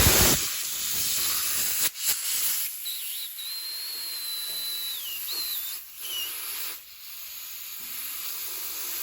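Compressed air hissing loudly from a hose end pushed over a tire's valve stem to inflate it, a steady close rush broken by short pauses and a thin whistling tone, with no talk.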